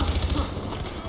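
Rapid bursts of Far Cry 4 gunfire rattle close and loud, a quick automatic volley that fades into a dense noisy wash.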